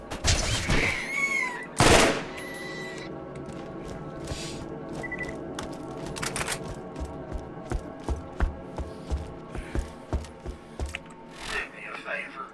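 Automated turrets fire in Borderlands on the Arid Badlands, a burst of loud shots at the start followed by a steady run of rapid gunfire over a droning game backdrop.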